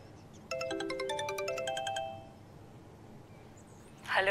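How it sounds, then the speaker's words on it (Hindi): A mobile phone ringtone plays a quick rising melody of bright electronic tones for a couple of seconds, then stops; a short rustle follows near the end. "मेरे बार बार फोन बज रहा है"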